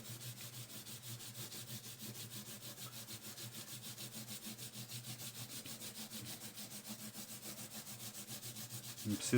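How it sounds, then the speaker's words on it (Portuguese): A rubber eraser is laid flat and rubbed back and forth over a pencil manga sketch on paper, a steady, close, rhythmic scrubbing that continues throughout with no talk. "Agora a gente vai pegar a borracha, lembra? Coloca ela mais deitadinha assim, ó. Dá uma apagada."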